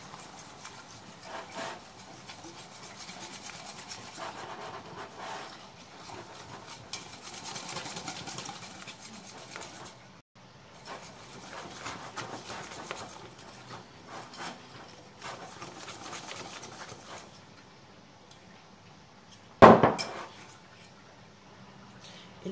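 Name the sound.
whisking chocolate tart batter with a whisk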